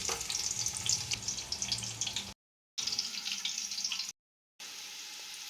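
Onions sizzle and crackle steadily in hot ghee and coconut oil with fennel, cinnamon, cardamom, cloves and mace, close and loud, broken by two brief dead silences.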